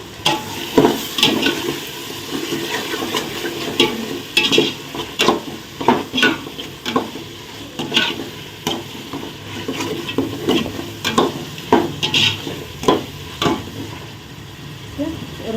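Potatoes and beans frying for vegetable biryani while a spoon stirs them in the pan, producing rhythmic scraping and clattering strokes over a continuous sizzle, close and fairly loud throughout.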